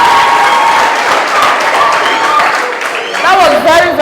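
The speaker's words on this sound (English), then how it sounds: "Can we clap for them again?" Loud, close audience clapping for a troupe of dancers performing the Oroko dance on a quiz show, steady throughout, with voices calling out over it near the end.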